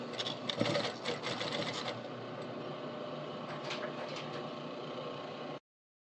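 A sewing machine top stitches along a fabric edge with a steady, close mechanical whir and rapid needle ticking, slowing slightly before it stops abruptly.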